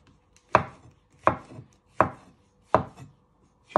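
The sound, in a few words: knife slicing mushrooms on a board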